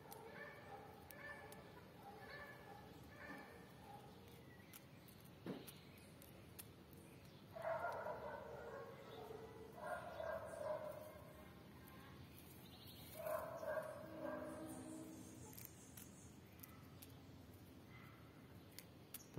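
Street dogs barking: several bursts of barking from a few dogs, faint and some distance away, with quieter gaps between them over a steady outdoor hiss.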